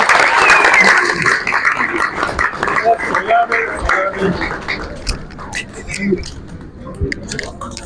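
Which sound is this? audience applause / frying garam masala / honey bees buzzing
audience applause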